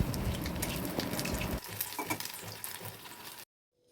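Sabudana pakoras sizzle in hot oil, a dense crackling hiss that thins and becomes sparser midway, with faint stirring clatter, before cutting off abruptly near the end.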